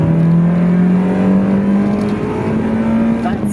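A car engine held near 7,000 RPM while driving, a loud steady high-revving drone with a tone that slowly rises and holds, close and continuous with no talk.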